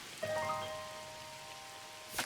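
Cartoon rain pours as a steady, moderate hiss, with sustained musical tones over it and a brief burst of sound near the end.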